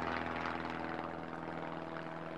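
A search plane drones steadily overhead, its propeller engine giving a continuous mid-distance hum with a faint rhythmic beat throughout.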